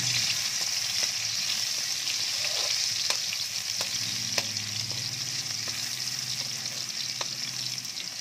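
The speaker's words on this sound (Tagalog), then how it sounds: "lalagyan na natin ng mantika yung ating kawali. Lagyan na natin yung ating bawang." Garlic hitting hot cooking oil in a pan, a dense continuous sizzle with scattered crackles and pops, close and steady throughout with no voices.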